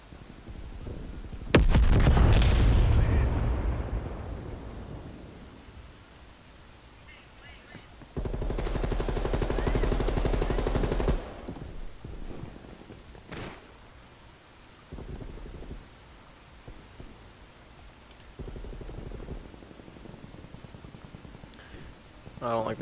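Gunfire in the video game Black Ops Cold War comes as loud, close bursts of automatic shots and single cracks spread through a match, while a player keeps talking between and over the shooting.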